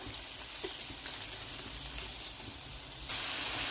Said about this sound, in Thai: เดี๋ยวเราเอามาผัดนะคะ ผัดให้หมูสุกนะคะ